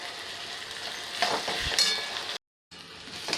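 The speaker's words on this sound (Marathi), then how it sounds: "मसाला छान परतला जातोय" Chopped onion and ground masala paste sizzle and fry in a pan for a Maharashtrian veg curry, a steady close hiss with a stirring scrape partway through, then a brief gap before the frying resumes.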